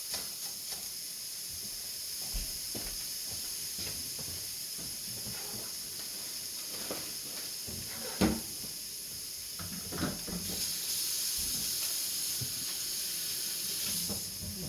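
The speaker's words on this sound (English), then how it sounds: "And then I'm going to put the steak down." A steak sizzles in a Saladmaster pan, a constant hiss held at an even level for the whole stretch, with a few faint clicks and knocks breaking through.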